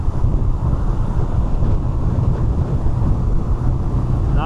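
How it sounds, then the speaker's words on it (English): Wind buffets a camera mounted on a BMW R 12 Nine T motorcycle, a loud, constant low rumble and rush pressing against the microphone without pause, no voices present. "the wind is lifting this guy"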